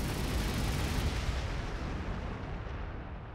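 Heavy bolter fire in the Warhammer 40K Gladius: Relics of War strategy game, a dense, roaring barrage of rapid heavy shots blending into a continuous rumble that slowly fades, with no talk over it.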